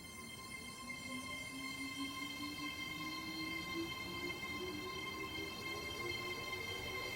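A GWR locomotive in the video game Train Simulator runs with a steady mechanical hum and a slowly rising tonal whine over a constant background rumble, with no speech.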